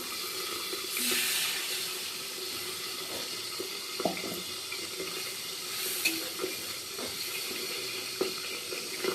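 Water poured into fried masala for a potol curry hisses and sizzles in the pan, a steady broad wash of sound with faint crackles and small pops, no talking.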